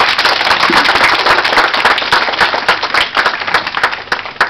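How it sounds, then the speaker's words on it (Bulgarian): Applause for the groom at a wedding garden party on the second day, a dense, loud burst of crowd clapping filling the whole clip. "дайте му един аплодисмент"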